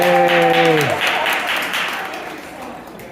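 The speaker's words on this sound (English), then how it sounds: "Round of applause for Michelle." A crowd applauds and cheers loudly, the clapping steady then slowly fading, with a brief voice at the start.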